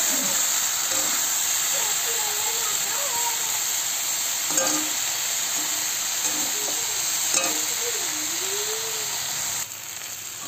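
Soaked soybeans fry with spice paste in a pan, a steady hissing sizzle with occasional scraping stirs, while a voice talks over the cooking.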